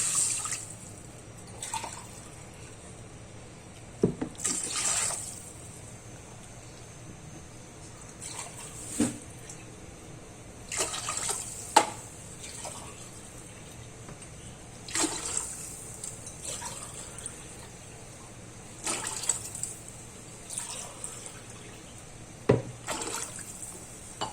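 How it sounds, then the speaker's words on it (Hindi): Water is poured into a cooking pot of green moong dal khichdi base with chilli, mint and coriander, heard as faint, intermittent splashes and trickles spaced a few seconds apart over a quiet background. "अब हम इसमें पानी डालेंगे।"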